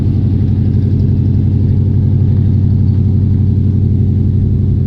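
A 1967 AMC Ambassador that has sat for 14 years idles steadily up close, its engine giving a deep, even rumble that stays level for the whole stretch, with no voices over it.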